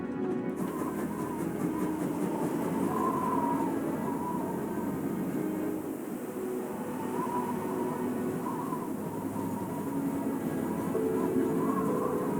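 Interior of a moving train on the Orient Express, from a murder mystery video game: a steady low rumble with faint rhythmic clacking and occasional squeals, fairly quiet and continuous, with no voices.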